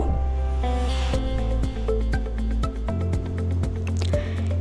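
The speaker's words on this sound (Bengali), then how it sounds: "লবণ আর গোলমরিচের গুঁড়োটাকে মাছের গায়ে খুব ভালো করে মাখিয়ে নেব" Wet squishing and slapping as salt and ground black pepper are rubbed by hand onto pieces of catla fish for a Bengali doi katla curry, with steady close squelches and drips and no voices.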